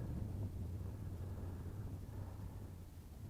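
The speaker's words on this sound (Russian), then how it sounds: "Холодный ветер." Steady, low cold wind buffets the microphone outdoors by the Moksha River at about 6°C, a soft continuous rumble with no voices.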